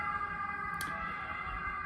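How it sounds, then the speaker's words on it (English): An ambulance siren on a main road holds a steady, fairly loud wailing tone throughout, with a brief sharp burst partway through and no talking. "As you can see, there is an ambulance, so I need to wait."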